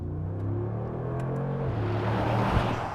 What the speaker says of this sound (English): Flooring the throttle in this thing,